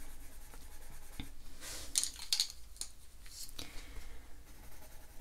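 A Zenacolor coloured pencil scratches and rubs across paper while layering red pigment, a faint, uneven scratching at close range with a few sharper strokes.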